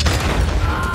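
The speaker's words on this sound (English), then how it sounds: "Dynamite! Dynamite!" Dynamite blasts in Red Dead Redemption 2 gameplay on PS4, a dense, loud burst of explosive booms and gunfire-like cracks filling a single second with heavy low rumble.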